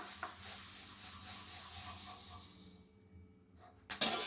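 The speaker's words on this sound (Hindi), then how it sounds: "जो हमारा मुरमुरा है इसको थोड़ा सा हम भून लेंगे" Puffed rice being dry-roasted in a pan over a gas flame gives a soft, steady rustling hiss that fades toward the end, followed by a brief louder scrape.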